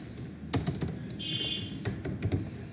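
Keys clatter on a computer keyboard in quick irregular bursts of close taps, with a brief faint electronic tone in the middle, as someone enters text while coding.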